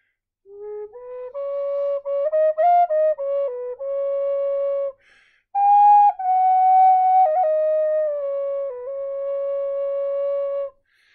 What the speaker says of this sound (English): It gives me that nice little whistle sound.